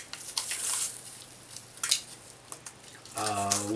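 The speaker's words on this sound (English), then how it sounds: "So all we do is crack an egg. On a hollow surface." An egg cracked against a hollow surface in a Saladmaster kitchen, a few sharp taps and cracks over faint background sizzling and clatter, with brief talk nearby.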